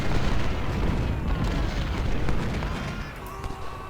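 Enemy artillery fire in the Civil War strategy game Ultimate General: Civil War comes as a dense, loud, rumbling roar of cannon blasts that sustains throughout and eases slightly at the end.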